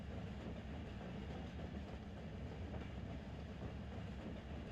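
A heavy train in the Run8 train simulator rumbles steadily along, a loud continuous low roar with faint rail clatter and no talking.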